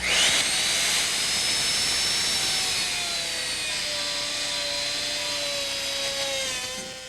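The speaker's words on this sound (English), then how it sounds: "I want to make sure that I start the router seated into position" A Shopsmith router motor spins up and holds a steady high-pitched whine with rising tonal harmonics as it cuts into a wood board, loud and continuous with no talking.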